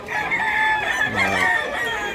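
Chickens and roosters at a poultry market in Mantalongon, Barili, Cebu cluck and crow loudly and continuously, several birds overlapping up close.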